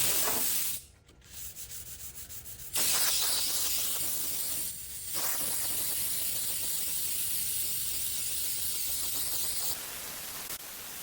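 Sandpaper on a block rubs over a rusted Nova car door, making a loud, continuous hissing scrape with short pauses between strokes.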